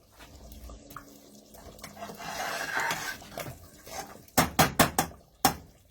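Blended agushi mixed with half a teaspoon of salt in a bowl: a soft wet stirring scrape builds, then a quick series of sharp utensil taps against the bowl, close and without talk.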